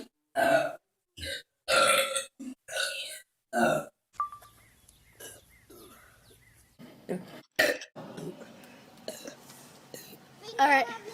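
A girl lets out a rapid series of loud, throaty burps after drinking Coke, several in quick succession up close, then quieter gulps and mouth sounds with a few softer burps later.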